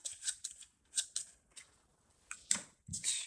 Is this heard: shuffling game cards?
yes